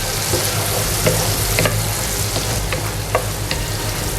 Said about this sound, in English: Let's saute the onions well.